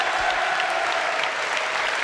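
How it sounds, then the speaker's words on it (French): A French television studio audience applauds loudly and continuously, a dense, even wash of clapping with no pauses. "Applaudissements pour Sophie Favier, mesdames, messieurs."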